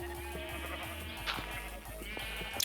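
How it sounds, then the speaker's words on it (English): Sheep bleating in Minecraft, several overlapping calls in a noisy farm pen area, steady and fairly loud alongside game ambience. "Good thing this is the sheep area already, because this is gonna be extra noisy."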